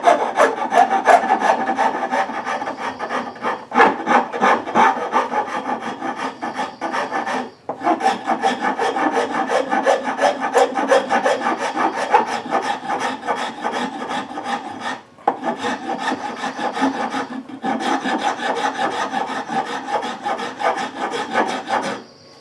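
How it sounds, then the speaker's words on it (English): A hand file smooths a wooden leg in steady back-and-forth rasping strokes, close and loud, with two brief pauses between runs of strokes. "Then I'll use the finer file to get those deeper rasp cuts out of it."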